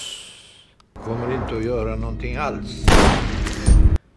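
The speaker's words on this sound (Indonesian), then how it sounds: "Mendengar suara tembakan" Voices talk for a few seconds, then loud, sharp pistol gunshot blasts crack out near the end, with a second strong bang just before it stops.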